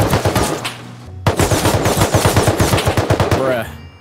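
Automatic auto turret in a survival video game firing loud, rapid bursts of gunfire at close range, a short pause, then a long sustained stream of shots that cuts off abruptly.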